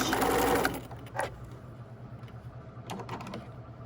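Near the start, a sewing machine back stitches a hood in a short, fast mechanical burst. Quieter clicks and taps of fabric handling follow.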